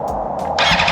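BMW M1000RR full-carbon superbike engine rising in revs, a steady mechanical drone that climbs into a loud, harsh roar in the second half, close by with no talking.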